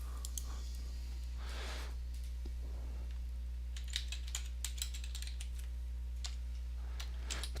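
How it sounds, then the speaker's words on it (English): Someone types on a computer keyboard to enter an email address, soft scattered key clicks in short runs over a steady low electrical hum, close and quiet, with no talk. "Type in an email address for the user"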